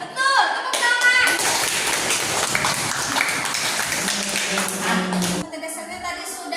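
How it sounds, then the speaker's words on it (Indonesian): Children clap together in a classroom after answering a lesson question, a dense burst of hand claps that holds steady for about five seconds before stopping, with young voices and a teacher's speech mixed in. "Tepuk tangan."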